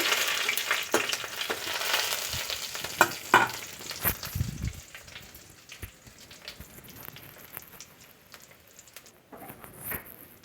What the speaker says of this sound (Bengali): হাফ চামচের মতো আমি দিয়ে দিচ্ছি পাঁচফোড়ন এটাকে আমি একটু ভেজে নিচ্ছি